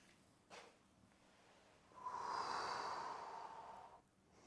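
Slow, quiet breathing during a guided relaxation and movement routine: a short breath near the start, then a long, steady exhalation lasting about two seconds, close and soft with no talking.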